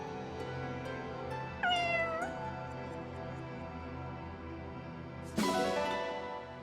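A cat meows in the Fire Emblem Engage video game, two clear, rising meows a few seconds apart over steady background music.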